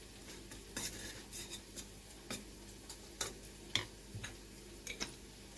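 Chilli fish ingredients are mixed with soy sauce in a bowl. A spoon gives faint, irregular taps and scrapes, with a few sharper clicks scattered over a quiet background.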